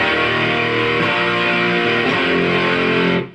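Electric guitar driven through the second channel of a Tony Boni Tree Mode tube overdrive pedal, sustained distorted chords ringing loud and close, changing twice before the final chord cuts off.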